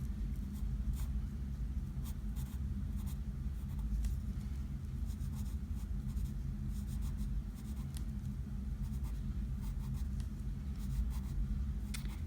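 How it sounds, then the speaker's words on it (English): Continuous soft scratching of a pencil shading on paper, drawn with a light hand, steady and close with brief pauses between strokes. "you have to have kind of a light hand with the pencil"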